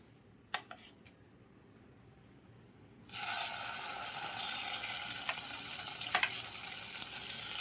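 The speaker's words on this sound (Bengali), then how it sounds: "তেলটা গরম হয়ে গেলে এখানে কাজু পেস্টটা দিয়ে দিতে হবে।" Cashew paste dropped into hot oil in a home kitchen pan, starting after a few quiet clicks with a sudden steady broadband sizzle that holds loud and continuous, with occasional sharper crackles and no talking.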